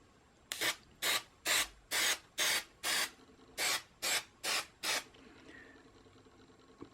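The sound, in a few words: spraying contact adhesive from a variable nozzle can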